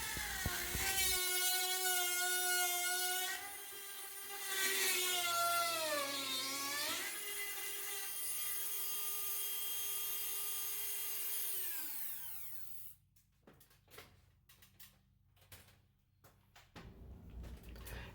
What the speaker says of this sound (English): I just start doing plunges with this thing, kind of drilling a bunch of holes